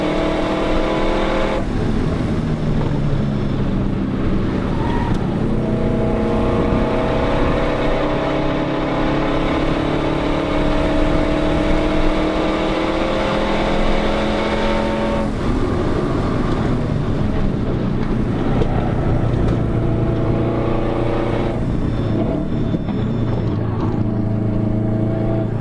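Car driving fast on a track at Carfest 2017, engine droning loudly and rising and falling through gear changes, heard from inside the car.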